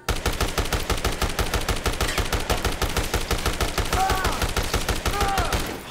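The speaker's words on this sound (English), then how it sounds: "we're gonna try a machine gun" Rapid automatic gunfire from a machine gun in the video game Dead Rising Deluxe Remaster, a steady loud stream of evenly spaced shots running without a break, with brief whistling game effects layered in near the end.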